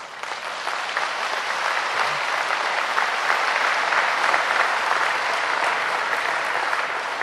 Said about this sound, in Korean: 하나님께서 박수 한번 해줘 보지